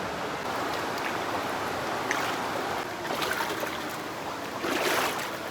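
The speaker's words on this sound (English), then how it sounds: "we've got to cross this creek that we've been following, which is Richland Creek" Richland Creek runs through the Arkansas wilderness with a steady rushing, bubbling flow that stays close and even throughout, with brief splashy surges and no voices over it.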